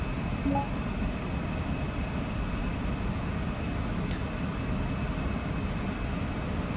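Embraer E-Jet engines climbing in a flight simulator game: a steady, loud cockpit roar with a constant low rumble and a faint high whine, unbroken and with no talk.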